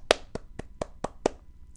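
One person claps six times in quick, evenly spaced, sharp hand claps close by, each crisp and short, over a faint background.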